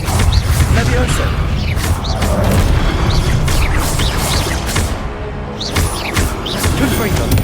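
Spell combat in Hogwarts Legacy with a Levioso cast, dense magical whooshes, thumps and crashing impacts layered continuously and loudly over a busy battle din, with no pause across the stretch.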